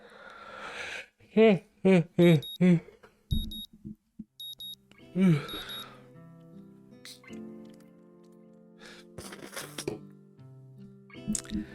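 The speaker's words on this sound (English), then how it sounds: "The sound of an alarm pulls me out of a fitful slumber and into the unpleasant state of wakefulness." A digital alarm clock in the Katawa Shoujo visual novel beeps in a quick run of sharp, close, repeated chirps, followed by softer scattered tones and a quiet musical backing.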